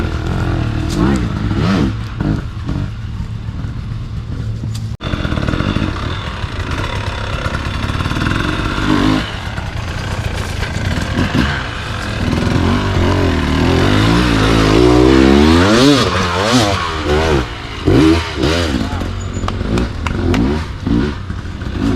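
Off-road motorcycle engine working through technical terrain, revving and blipping in uneven bursts with clattering chassis noise, close and loud, while someone talks over it for much of the time.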